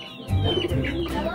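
Fighting roosters cluck in short, throaty bursts close to the microphone, with a rooster-like call rising above the clucks.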